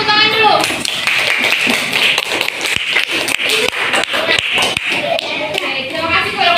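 An elementary school class claps hands together in a classroom, a burst of many small hands clapping loudly and unevenly, with children's voices mixed in around the claps.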